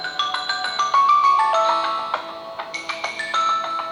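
A melodic ringtone plays on a OnePlus Nord CE2 Lite 5G phone, a bright chiming tune of quick stepping notes, clear and close with no voices.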